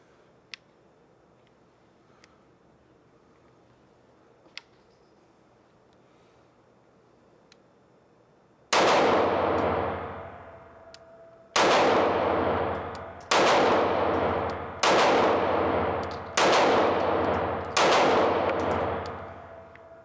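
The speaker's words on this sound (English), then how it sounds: "this gun is not moving at all as I shoot it" Taurus G2c 9mm pistol fired at a shooting range: after a quiet stretch, six loud sharp shots ring out at a steady, unhurried pace, each with a brief ringing decay, and no one speaks.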